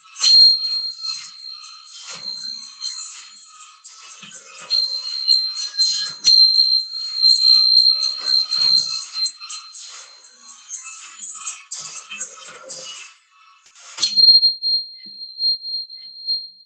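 High-pitched electronic sine tones around four thousand hertz sounding in sustained steady beeps that break off and resume, mixed with scattered clatter and shuffling noise, ending on a long clean held tone.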